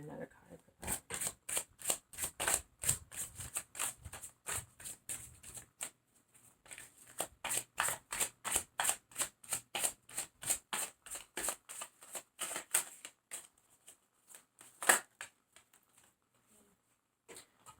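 Tarot cards being shuffled up close, a long run of quick, crisp riffling flicks in steady rhythm with a brief pause near the middle, fading to a few scattered snaps at the end.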